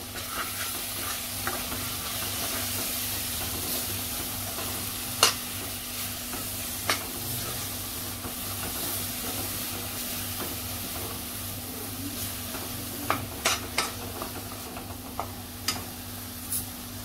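Ground masala paste sautéed in a pan for a fish curry, a constant soft sizzle and frying hiss with a low hum beneath, punctuated by scattered sharp taps and scrapes of the spatula as it is stirred.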